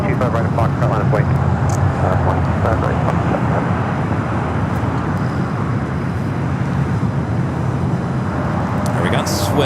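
An airliner takes off from runway 25 right at LAX. A loud, steady broadband jet roar fills the whole stretch, with a voice briefly audible at the start.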